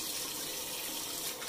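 Hot tap water runs steadily into a sink during a wet shave rinse, making a close, even hiss and splash throughout with no talking.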